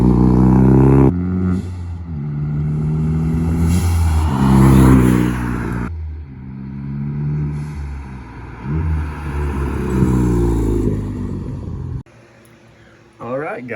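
A Ford Focus ST fitted with a Turbosmart blow-off valve drives past outside, its engine loud and close as it revs and accelerates through the gears, then drops away and fades near the end.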